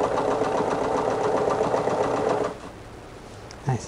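A sewing machine stitches quilt pieces with a steady, close, rapid mechanical hum and needle chatter for about two and a half seconds, then stops, leaving quiet with a brief knock near the end.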